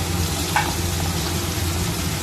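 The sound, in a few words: beans and spring onion stalks frying in a pan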